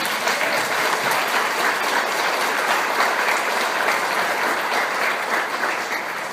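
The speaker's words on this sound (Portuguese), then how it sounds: "Dê um aplauso ao Rei da Glória." A church congregation applauds loudly during a sermon, a dense, sustained wash of clapping from many hands that holds steady for several seconds and tails off slightly at the end.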